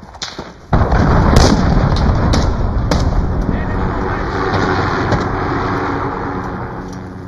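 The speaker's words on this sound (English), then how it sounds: "Allied cruise missile launched." Cruise missile blasts in the Call of Duty Warzone (Modern Warfare) video game: a sudden heavy boom opening into a sustained rumbling roar with scattered sharp cracks, loud and close, with game voice callouts over it.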